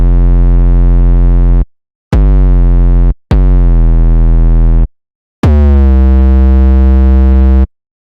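Four heavily distorted 808 bass notes made in the Serum synth, each a loud, buzzy sustained tone with a sliding pitch, separated by short silences.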